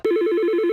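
Telephone ringing in an advert for business phone systems, a steady electronic ring of rapid repeating pulses, loud and close, with no voices.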